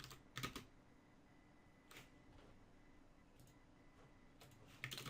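A computer keyboard is typed on while Android login code is written: scattered short bursts of close, quiet key clicks separated by pauses, with a soft steady background hum and no voices.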